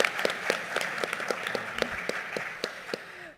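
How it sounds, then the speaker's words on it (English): Applause from a symposium audience at a youth mental health event, a modest, thinning round of clapping with distinct individual claps popping out rhythmically as it winds down before stopping. "Let's give her a round of applause"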